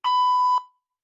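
One loud, clean electronic workout-timer beep lasts about half a second, then cuts off into silence.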